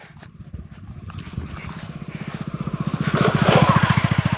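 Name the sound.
motorcycle approaching on a rural road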